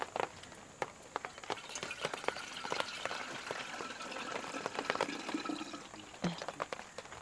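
Water poured into a puttu steamer pot for a Kerala paal puttu breakfast, a steady close splashing and trickling with small clicks and knocks over the whole stretch.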